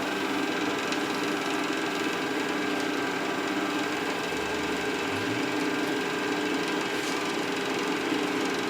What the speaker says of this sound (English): I've slowed the lathe down.